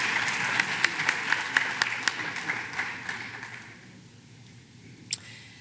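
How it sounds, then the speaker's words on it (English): Applause at a high school senior awards program, a crowd clapping steadily at moderate distance before fading out, followed by one sharp clap-like knock near the end. "Let's give her a round of applause."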